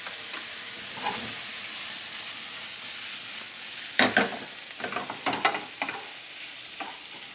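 A couple of garlic cloves fry in olive oil with a faint, steady sizzle, and about halfway through a burst of louder stirring and spattering crackles begins and then settles back into the sizzle.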